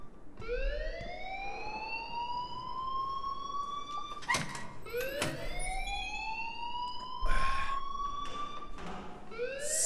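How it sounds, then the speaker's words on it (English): A school fire alarm in the video game Life is Strange whoops repeatedly in rising siren sweeps, each lasting a few seconds, loud and alone with a few thumps between cycles. "please turn off that alarm since that's your job"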